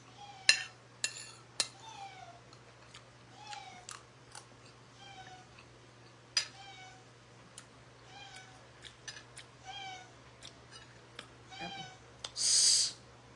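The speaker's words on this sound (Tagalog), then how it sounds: "Ang pusa umiiyak." A kitten cries with repeated short meows, scattered irregularly over a steady low hum in a home kitchen at breakfast, with faint clinks of cutlery and dishes and a louder hissy burst near the end.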